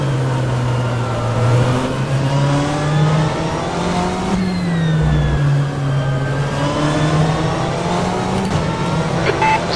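A BMW M8 GTE race car in rFactor 2 at Istanbul Park, a loud close engine droning and revving up and down through gear changes, with the pitch dipping and climbing across the lap, no talking.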